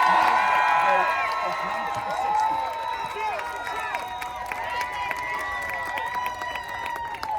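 A crowd at an outdoor 'Protect the Vote' election rally cheers, whoops and claps, with many overlapping shouting voices rising and falling throughout several seconds of lively noise.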